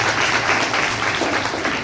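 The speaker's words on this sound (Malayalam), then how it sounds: "കൈയടിച്ച് കൂട്ടായ്മയിലേക്ക് സ്വാഗതം ചെയ്യുന്നു" An audience at a reading-week celebration at a government higher secondary school in Erattupetta applauds to welcome a guest, producing a dense, steady burst of clapping from a crowd of many hands.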